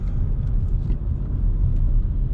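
A 2020 Volkswagen Polo 1.0 TSI Comfortline rolls over a bumpy, wavy road surface, heard from the cabin as a loud, steady low rumble of road and engine noise without talk.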